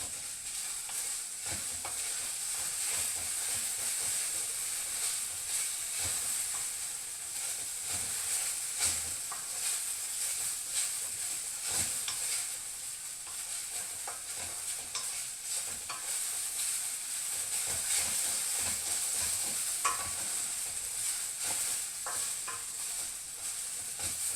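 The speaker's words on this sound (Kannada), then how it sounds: "ಗ್ಯಾಸನ್ನು ಹೈ ಸ್ಲೋ ಹೈ ಸ್ಲೋ ಮಾಡಿಕೊಂಡು ನಾವು ಬೆಂಡೆಕಾಯಿ ಫ್ರೈ ಮಾಡಬೇಕು" Okra (bhindi) fries in a pan over high and low heat for a curry, with a constant loud sizzle and hiss and frequent scraping stirs throughout.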